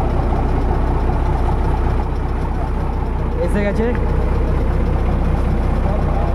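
A boat engine chugs steadily on a river through the Sundarbans forest, a constant close rumbling drone with people talking over it and a brief whistle-like tone in the middle.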